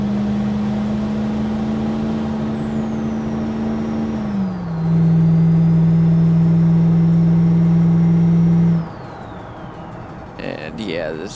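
Truck engine heard from inside the cabin in the BeamNG driving game, a deep bassy drone that steps up and holds loud under throttle for several seconds, then drops away near the end.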